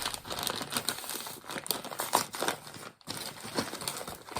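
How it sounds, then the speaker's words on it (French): A paper envelope is torn open up close, with crinkling and rustling that comes in irregular bursts and briefly stops before resuming. "je vais ouvrir l'enveloppe"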